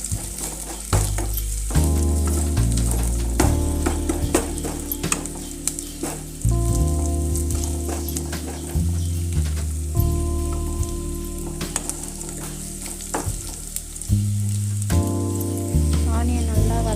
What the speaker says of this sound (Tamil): ஆனியன் நல்லா வதங்கிடுச்சு